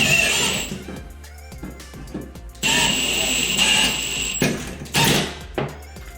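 A power drill whirs loudly in several bursts, spinning up and straining as it drives a bolt into a wall, with short pauses and some clanking between runs.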